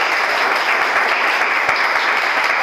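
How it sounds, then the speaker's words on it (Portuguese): A church congregation at a youth worship service applauds, dense steady clapping from many hands filling the room for the whole moment, loud and sustained without pause. "Vamos aplaudir aí em nome de Jesus."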